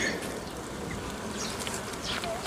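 Honeybees in a hive buzz softly around a motionless queen while tending and cleaning her, a faint continuous hum with a few nearby wingbeats flickering through.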